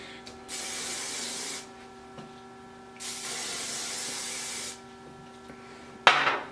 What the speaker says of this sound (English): take hairspray. This is the Garnier Fruity Style hairspray.